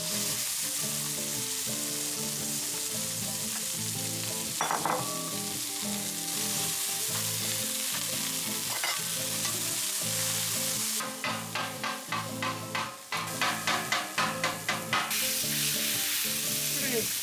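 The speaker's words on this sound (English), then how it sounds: "we're gonna cook all of this on the griddle" A pound of prime ground beef frying on a flat-top griddle gives a loud, continuous sizzle. A spatula scrapes and chops through it, and near the end a run of quick, rhythmic metallic taps comes in.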